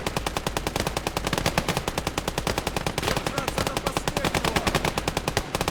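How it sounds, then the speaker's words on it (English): Loud, rapid sustained machine gun fire in the WW2 strategy game Gates of Hell: Ostfront, a dense unbroken stream of rounds lasting several seconds, up close and continuous. "Use infantry support weapons, mortars, machine guns to soften the line."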